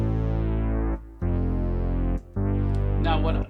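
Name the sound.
EX7 keyboard synthesizer Fat Octave bass sound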